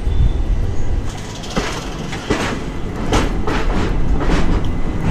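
Indian passenger train between Delhi and Agra moving along, heard from an open carriage door, with rhythmic clickety-clack of wheels over rail joints over a steady rolling rumble and wind.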